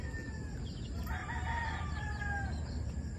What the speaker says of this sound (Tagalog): Nandito tayo sa ating munting manukan.